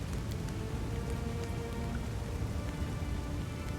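Steady rain pours down in the Pathfinder: Wrath of the Righteous video game, a dense, even hiss of drops hitting the ground with no pauses and no voices.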